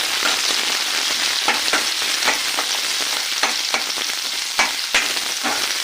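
Onions and curry leaves fry in hot oil for an egg curry, a steady close sizzle with soft scraping stir strokes at irregular intervals, no voices.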